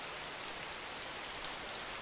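Steady rain falls in the survival video game DayZ, a dense, even hiss of drops with no breaks or talk over it.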